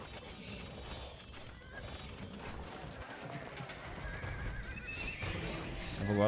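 Paladin cavalry horses neighing and whinnying in Age of Empires II amid battle clatter and hoofbeats, with talk running over the busy game sounds.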